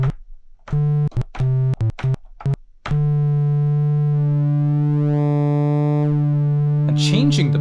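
An 8-bit style synth pulse wave holds a loud, steady buzzy tone while its pulse width is swept, so the timbre shifts and thins. Brief choppy notes come before it, and a short voice-like burst enters near the end.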